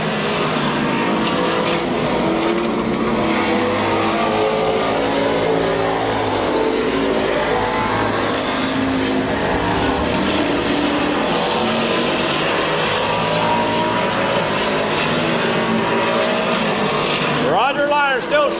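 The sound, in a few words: race cars racing at Midvale Speedway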